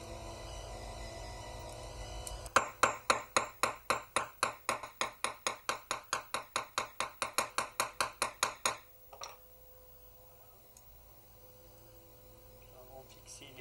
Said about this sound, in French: puis riveter.